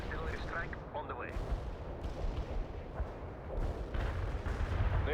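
Heavy artillery barrage in the World in Conflict strategy game, with rumbling, booming impacts and rolling blasts building toward the end, mixed with battlefield noise and voice chatter.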